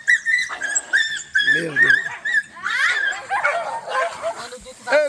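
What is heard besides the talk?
dog, a female in heat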